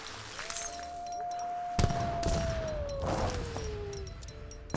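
Gatling gun and artillery fire in Age of Empires 3, scattered distant booms and crashing impacts under a battle din, with a rising and falling whistling tone through the middle.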